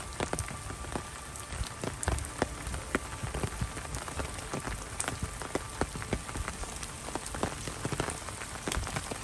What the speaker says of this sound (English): Walking Jack in the rain